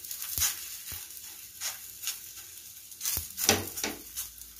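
Parotta laid onto a hot oiled tawa, sizzling softly with intermittent scraping and tapping knocks at irregular intervals, quiet and close with no talking.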